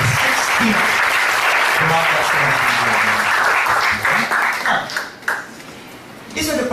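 An audience applauds at a company product demonstration event, giving sustained, loud clapping that thins out toward the end, with voices mixed in.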